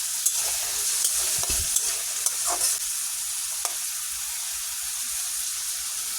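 Onions fry in oil with a steady soft sizzle while a spoon stirs them, giving a few scattered scrapes and taps against the pan.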